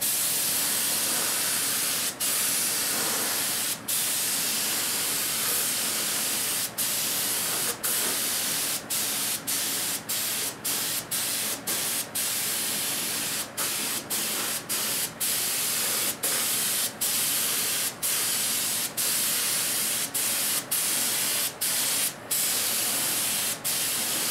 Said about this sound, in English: I've got my gun all set up here and ready to go, so let's start spraying